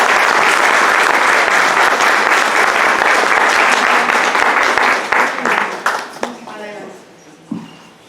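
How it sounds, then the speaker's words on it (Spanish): Loud, dense applause from a seminar audience welcoming a speaker at a talk on cold sterilization, sustained for about six seconds before thinning into scattered claps, then a voice begins speaking. "Démosle un fuerte aplauso para recibirla."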